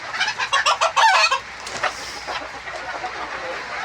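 A jealous chicken clucks loudly and repeatedly at close range, a quick run of sharp calls that soon fades into quieter, scattered clucks over faint background noise.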